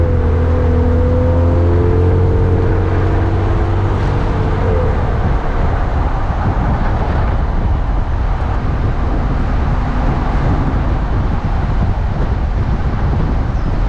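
A car carrying a loaded platform rack with two e-bikes drives along, its steady road and engine rumble continuous and close throughout, with a low drone early on and no talking.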